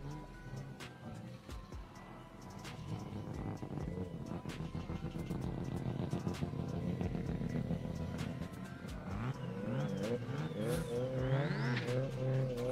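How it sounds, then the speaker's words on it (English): Fiat X19 race car with a Honda VTEC turbo engine at a no-prep drag racing event, engine revving loudly and continuously over crowd noise and other cars, rising toward the end. "Fiat X19 powered by Honda VTEC Turbo lines up."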